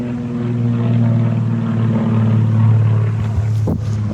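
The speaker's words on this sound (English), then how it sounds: "It's a plane." A propeller airplane drones overhead in a steady, loud, continuous hum that swells slightly and holds for the whole stretch, with no talking.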